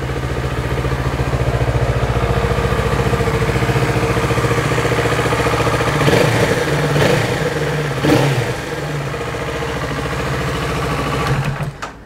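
A low-mileage 2019 Kawasaki Z650 motorcycle idles close by with a steady, even engine throb, a couple of slight rises in the middle, and no talking over it.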